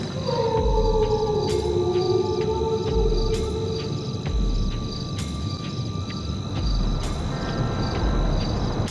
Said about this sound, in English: you might catch the wolf's howl